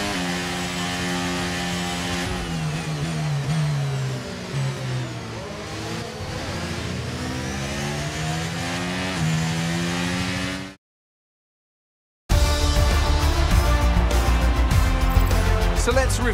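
Race car engine from the F1 23 game at the US Grand Prix, a steady loud mid-pitched drone whose tone sweeps up and down through gear changes, cutting out briefly before another dense roar returns.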